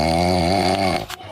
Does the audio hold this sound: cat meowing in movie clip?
no